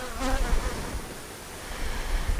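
Honeybees buzz steadily around an open beehive during a frame inspection, a dense close hum with a few louder passes near the ear and low rumbling handling noise underneath.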